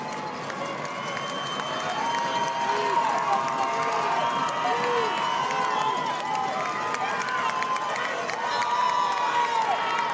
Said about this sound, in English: both bleachers are going berserk